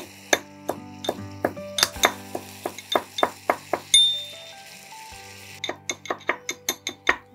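A metal spatula clinks and scrapes in quick, regular strokes against a pan while hilsa fish masala is sautéed until the oil separates, with a brief pause midway and only a faint sizzle beneath the close, bright knocks.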